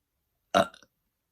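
A single short, loud burp breaks the silence, trailing off in a couple of small croaks.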